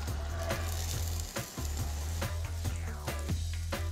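Onions sauté in an oil and maple syrup mixture in a hot pan. A dense, steady sizzle is heard with a low hum beneath it and regular light clicks and ticks, close and continuous.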